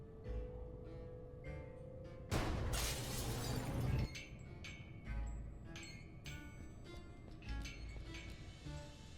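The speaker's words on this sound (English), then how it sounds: "I got rid of the glass above the door to the lab" Glass shattering in the video game Gibbous, a single loud crash of breaking panes lasting under two seconds, followed by scattered clinks and quieter game sounds.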